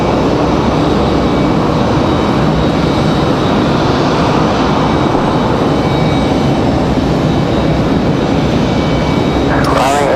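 A Delta Airbus A321 jet airliner at Raleigh-Durham International Airport gives a loud, sustained broadband engine roar that stays steady throughout, with a voice faintly audible beneath.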